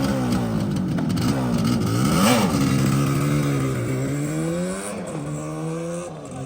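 A 1981 Yamaha RD350LC two-stroke motorcycle with a rebuilt engine starts from cold, idles and revs repeatedly, its pitch rising and falling with a raspy, buzzy tone, close and loud.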